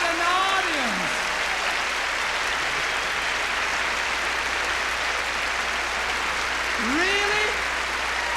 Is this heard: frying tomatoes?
no